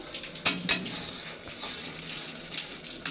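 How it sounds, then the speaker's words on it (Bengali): Spice paste for a Bengali fish curry fries in a pan at home, a soft sizzle under sharp clinks and scrapes of a utensil stirring against the metal, with several bright knocks. "দেখো এই যে মাছের জন্য এই যে মশলা আমি কষাচ্ছি"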